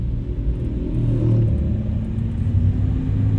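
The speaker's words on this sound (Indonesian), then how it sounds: "derungan mesinnya agak kenceng" A 2003 Suzuki Escudo 1.6L SE416 engine droning steadily while driving, a moderate, low, even rumble heard from inside the car with no sharp revs.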